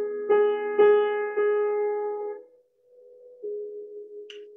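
Piano chords with the top note voiced as a melody, three struck chords ringing in steady succession, then softer single notes sustaining after a brief pause.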